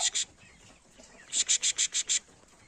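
A rapid run of about seven short, bright calls from young cockerels and hens hatched in late March, with a couple of similar calls just before and quiet background in between.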